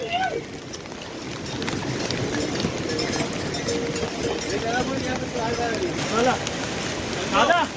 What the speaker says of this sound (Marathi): सध्या पाऊस चालू आहे जोरात